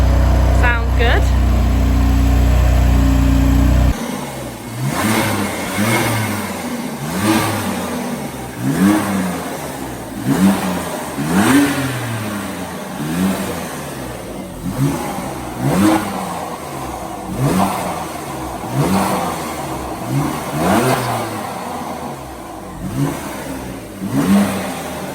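A BMW F80 car engine runs and is revved repeatedly in a steady rhythm of rising and falling throttle blips, loud and close, after a brief loud tonal opening.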